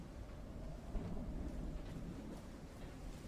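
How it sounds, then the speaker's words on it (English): Thunder in Call of the Sea: a low, steady rolling rumble, fairly faint and distant, with a soft crackle on top and no talk. "That was thunder."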